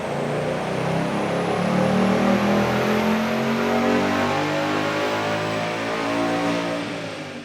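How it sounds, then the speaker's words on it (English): A manual 2018 Ford Mustang GT V8 pulls hard through 4th gear on a chassis dyno, its loud, steady engine roar climbing in pitch throughout the run before easing off at the end. "all of the runs were done on a manual 2018 GT in 4th gear"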